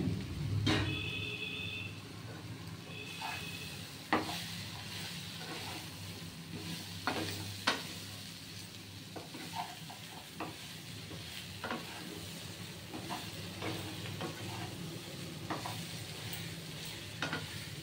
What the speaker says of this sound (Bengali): এটা দিয়ে এবার ভাজা ভাজা করে, দেখুন কড়াতে কিন্তু একটু তেল নেই, এই সব ভাজা হবে